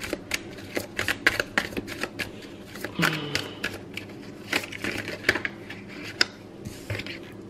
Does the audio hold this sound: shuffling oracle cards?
yes